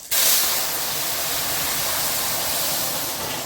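Vegetables drop into hot oil heated with radhuni spice in a pan for a prawn and green banana curry, setting off a sudden loud, dense sizzle that hisses steadily and close for several seconds with no talk.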